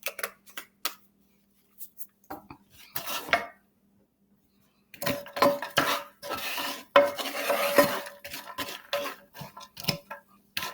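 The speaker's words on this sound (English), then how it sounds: "you want to coat those noodles really well with the margarine mixture. And let it saute in the skillet." Noodles coated in a margarine mixture are stirred in a skillet, with close, irregular scraping and clinking of a utensil against the pan in bursts separated by brief pauses.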